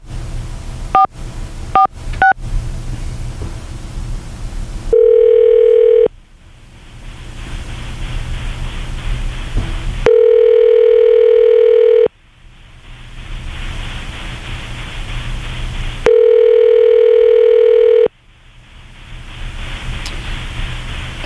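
A telephone redialing a call gives a few quick keypad beeps, then a steady tone that sounds in long pulses about every six seconds, loud over a constant background hiss.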